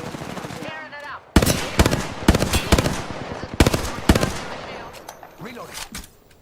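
Rapid bursts of video game gunfire crackle loudly in several clustered volleys over a busy shooter soundscape, with brief gaps between them and fainter effects trailing off at the end.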